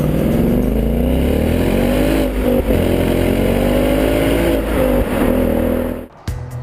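A Ford Mustang GT V8 with manual transmission drones steadily and loud while cruising, its engine note rising and falling slightly before cutting off sharply near the end.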